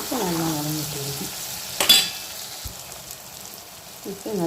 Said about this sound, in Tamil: இப்போ நல்லா வதங்கிட்டு இருக்கும்.